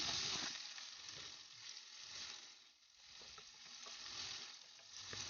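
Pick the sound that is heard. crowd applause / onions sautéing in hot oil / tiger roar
onions sautéing in hot oil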